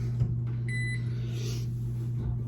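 An oven timer being set for 10 minutes gives a short run of thin electronic beeps over a steady kitchen appliance hum, close and fairly quiet.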